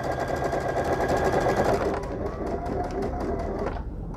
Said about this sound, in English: We're going to stitch right along the edge of our fusible fleece.